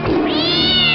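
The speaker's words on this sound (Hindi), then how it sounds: "बिल्लियों छोड़ो, बंद करो नोचना।" A cat gives one drawn-out, loud meow lasting about a second, close and alone, in a comedy sketch.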